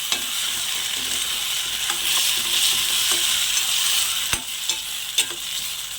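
Maggi noodles tossed and stirred in a hot pan, a loud continuous sizzle broken by sharp scraping knocks of the spoon against the pan, with no voices.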